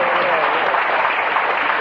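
Audience applause on an old-time radio talent show broadcast, a dense, steady wash of clapping at even loudness throughout, with a voice faintly audible underneath.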